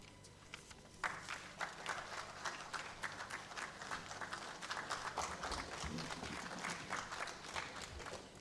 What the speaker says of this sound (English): A round of applause for him once more.